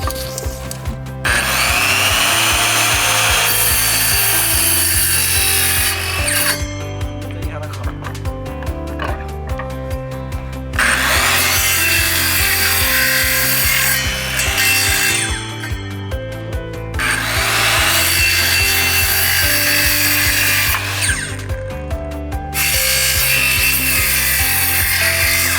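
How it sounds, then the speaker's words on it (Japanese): A round piece of wood is sawn outdoors near a mountaintop cliff where steps are being built: loud, close, rasping saw strokes come in several long bouts with brief pauses between them. "丸いものを切るってなかなか難しいんです。"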